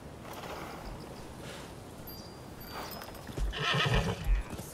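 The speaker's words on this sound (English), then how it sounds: "Remember, we had a horse named Nobu in Ghost of Tsushima" A horse in the video game Rise of the Ronin whinnies a couple of times amid hoofbeats clopping along, with a louder snort and stamping toward the end.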